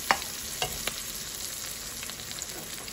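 Onions sizzle steadily in a hot frying pan while cooking pancit kanton, a continuous crackling hiss broken by a few sharp pops near the start.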